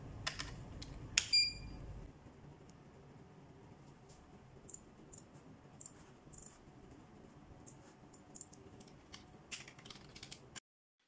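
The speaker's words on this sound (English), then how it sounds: "And now let's switch to computer 2 by using the keyboard hotkeys." Keyboard keys are pressed as hotkeys to switch computers on a CKLau two-port HDMI and DisplayPort dual-monitor KVM switch, heard as light, close clicks and taps scattered over a quiet background, with a slightly louder cluster near the start.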